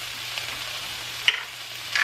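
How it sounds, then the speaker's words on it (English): Smoked sausage and Brussels sprouts with garlic stirred in a pot, a soft low sizzle with a couple of brief scraping clinks from the spoon near the end. "Give that a quick stir"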